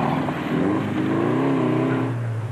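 An off-road racing truggy engine, loud and close, holding a steady rising drone with a changing pitch over a couple of seconds, no voices.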